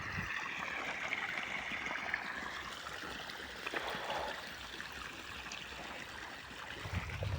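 Irrigation water runs through a farm channel into a wheat field, a faint, steady trickling and gurgling flow that continues evenly without voices.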